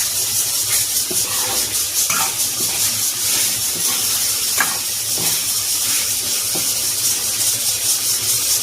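Ground onion-coconut masala frying in oil until the oil separates, heard as a loud, constant hissing sizzle with faint scattered pops and stirring knocks.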